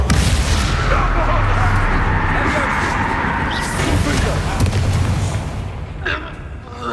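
The Bombarda explosion spell in the Hogwarts video game, a loud close blast that roars and then rumbles away over several seconds.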